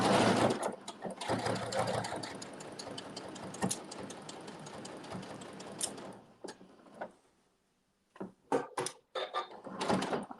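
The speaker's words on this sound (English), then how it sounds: "I'm just going to continue to sew right on that stitching." A home sewing machine runs steadily through fabric at a quilting workshop, its dense mechanical whir continuing for about six seconds before stopping, followed by a few short clicks and bursts as the stitching restarts briefly.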